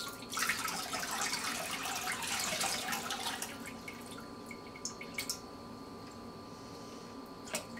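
Soaked Charmin toilet paper is lifted out of water, giving a close splashy trickle that thins into sparse, irregular drips.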